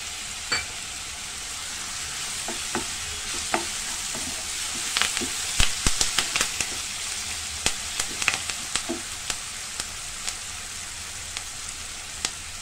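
Curry leaves and green chillies with a pinch of salt fry in a hot pan, giving a continuous sizzle scattered with sharp crackles and pops that grow busier toward the middle, close up and without speech.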